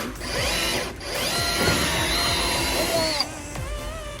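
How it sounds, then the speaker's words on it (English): A drill whines and grinds through aluminum, making a hole for a straw in a sippy cup, in a continuous burst, pitch sliding as it bites, pausing briefly before spinning again. "we're gonna drill this hole here so we can put the straw in it."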